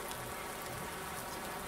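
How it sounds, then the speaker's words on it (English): Heavy rain falls in the Farming Simulator 19 video game as a dense, steady hiss that stays level throughout with no voices. "but ooh, that rain's hard."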